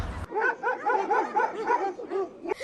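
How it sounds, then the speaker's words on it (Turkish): Two dogs bark in quick repeated yaps as they run toward people outdoors, a close rhythmic series of barks that fills the short moment after a brief opening noise. "İki tane köpek üstümüze doğru koşmaya başladı."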